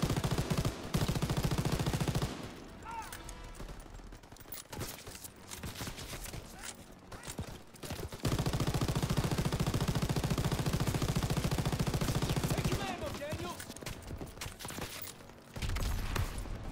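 Call of Duty WWII battle with dense machine gun fire: long, loud, rapid bursts rattle almost continuously, broken by short pauses. Gunshots and combat noise fill the gaps.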